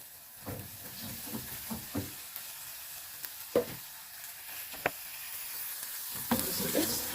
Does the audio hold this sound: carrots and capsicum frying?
yes